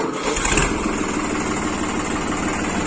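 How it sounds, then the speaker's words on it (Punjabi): A New Holland 3630 limited edition tractor engine cranks and catches, then settles into a loud, steady diesel idle with an even low rumble close by. "ਹੁਣ ਤੁਹਾਨੂੰ ਸਟਾਰਟ ਕਰਕੇ ਦਿਖਾਉਂਦੇ ਆ ਕਰਿਓ ਜੀ"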